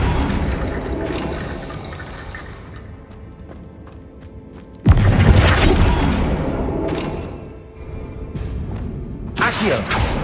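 A Flipendo spell goes off in Hogwarts Legacy with a sudden loud thumping burst, followed by swirling whooshes and rumbling effects over a low game ambience, with further impacts near the end.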